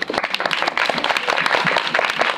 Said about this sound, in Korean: 박수 좀